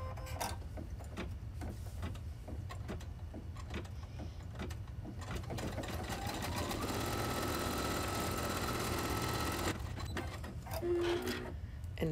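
Embroidery sewing machine stitching a wall hanging block, a steady mechanical whir that builds to a denser, louder run in the middle before easing, with brief pauses near the end.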